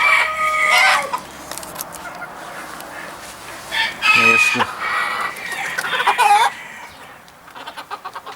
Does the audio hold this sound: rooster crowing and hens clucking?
yes